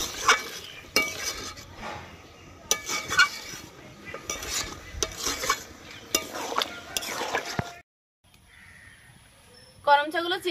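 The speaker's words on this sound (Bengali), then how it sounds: "করমচাগুলো চিনির রসে ফুটছে," Karonda fruits boil in sugar syrup in a pot, with spoon clinks and stirring scrapes in bursts, then a short quiet gap and a faint bubbling simmer near the end; a voice talks over parts of it.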